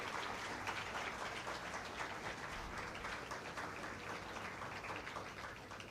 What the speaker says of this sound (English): Can we see a very big round of applause for all the people sitting here?